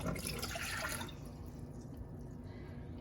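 Water poured into a saucepan for cooking yellow rice, a brief splashing fill at the start that settles into a faint trickle, quiet and without talk.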